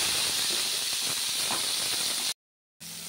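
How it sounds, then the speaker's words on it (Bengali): Bitter gourd frying in a karai with leftover oil, giving a steady, loud sizzling hiss for about two seconds, then a brief silent gap before the sizzle resumes. "ভেজে নেবো আগে উচ্ছেটাকে সুন্দর।"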